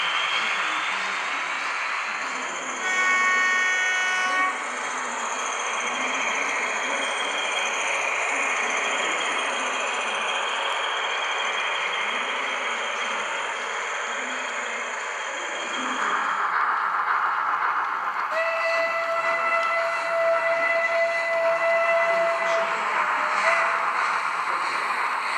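Model steam locomotive hauling double-deck coaches on a layout, a steady mechanical running drone with faint whirring and squeaky tones, changing character partway as the train passes, with no talk.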